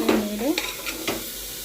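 Food with salt and turmeric being stirred in a hot pan, giving a brief run of scrapes over a low sizzle, close and without talk.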